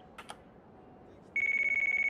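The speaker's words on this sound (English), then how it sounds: "that's the phone thing that I have in my pocket" A phone rings in a pocket in the video game Yakuza Kiwami, two short electronic chirps followed by a sudden loud, steady warbling ringtone that continues to the end.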